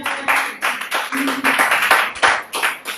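Church congregation clapping and calling out in acclamation to the Lord, a dense continuous wash of applause with irregular rhythm and crowd voices throughout.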